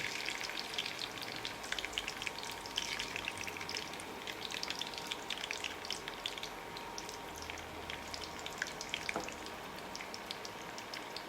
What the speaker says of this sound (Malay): kalau masa menggoreng ni, minyak dia bericik semua